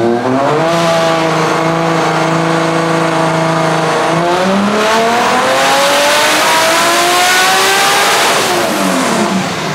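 A 1700 hp Mustang with a 2JZ engine accelerates hard, loud and close. Its engine note climbs steadily in pitch, drops briefly at each of two gear shifts, then climbs again under sustained wide-open throttle.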